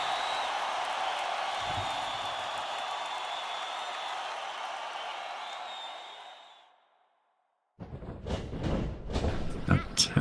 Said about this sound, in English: You can hear that crowd getting really excited now.